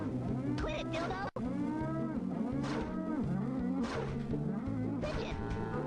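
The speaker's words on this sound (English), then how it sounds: "Man, these cows are really dumb." Cows moo in the South Park N64 video game, drawn-out bovine calls repeating over game music and effects, fairly loud and close, with a voice speaking briefly at times.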